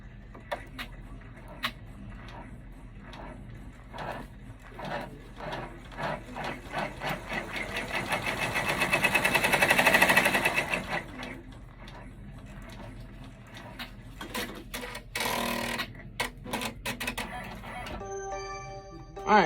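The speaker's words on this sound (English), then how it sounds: "So it's going to do the placement stitch." Embroidery sewing machine running a placement stitch for an apple applique, a fast rhythmic needle chatter that swells to a louder peak midway and then breaks into short bursts and pauses, close and clear with no voices.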